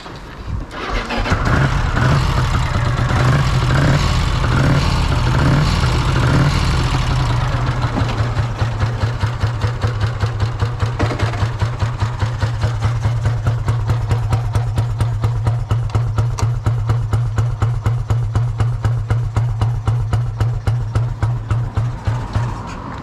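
A Vincent Rapide 1000 V-twin motorcycle engine cranks and fires up, then settles into a steady, loud idle with a fast, even pulsing beat that carries on for about twenty seconds, close to the listener and with no talking.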